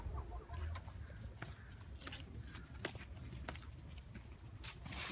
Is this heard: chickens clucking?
yes